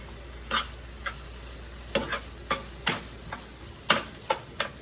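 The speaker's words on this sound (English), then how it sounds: "let's get this stirred up in here together" A spoon stirs a squash mixture in a pot on the stove, making a handful of separate short scraping strokes with faint sizzling in between, close and unhurried, with no talking.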